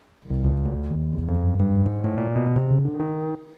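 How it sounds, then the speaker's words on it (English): A chromatic scale on a Roli Lightpad Block touch MIDI controller steps steadily upward in pitch, synth notes one after another, each sustained and bright, played cleanly with no voices. "the first mode is pretty much just a chromatic scale"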